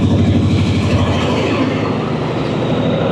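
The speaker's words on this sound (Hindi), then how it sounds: "कराची एक्सप्रेस हुई रवाना" The Karachi Express pulls out of Lahore station, a loud, close, continuous rumble of heavy rail cars and a low engine drone with steady clickety-clack of wheels over track joints.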